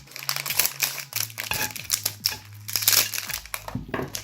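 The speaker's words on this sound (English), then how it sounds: "Let's open this chocolate flavor. Now, here, let's cut it open." Close crinkling and crushing of a plastic Japanese chocolate snack wrapper as it is cut open, with irregular rustling crackles throughout and a steady low hum underneath.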